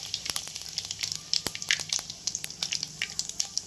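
Cumin and mustard seeds crackle and sizzle in hot oil in a kadhai, a close, busy frying hiss punctuated by sharp popping bursts.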